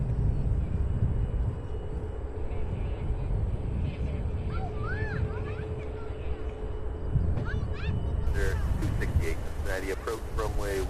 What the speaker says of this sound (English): Alaska Airlines Flight 508. Headed to Seattle, Washington.